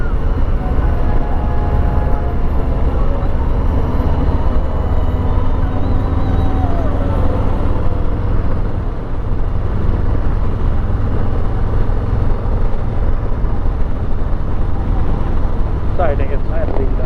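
A 2020 Harley Davidson Street Bob FXBB rides in third gear, its engine giving a loud continuous rumble with wind noise throughout, while the rider talks over it.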